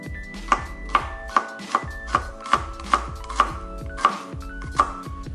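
Knife chopping garlic and ginger on a cutting board for a stir-fry, a steady run of about eleven sharp, evenly spaced chops heard up close with no talking.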